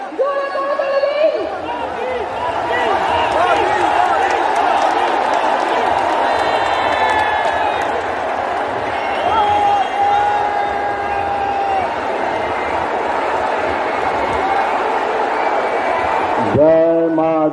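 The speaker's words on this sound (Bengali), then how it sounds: "জোরে করতালি দিন।" A large crowd at a BJP political rally in Barrackpore, Bengal, cheers, shouts and claps in a sustained roar lasting most of the clip, with amplified voices and whistles rising above the noise before it cuts off.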